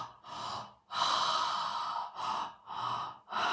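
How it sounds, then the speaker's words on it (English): Deep, slow breaths during a breathwork exercise, heard close: several long inhales and exhales with short pauses between, and no talking. "Keep breathing."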